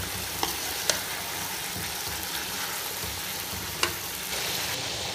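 Chicken, potatoes and carrots fry together in a pot for jungli pulao, giving a steady hissing sizzle with occasional sharp clacks of a spoon against the pot.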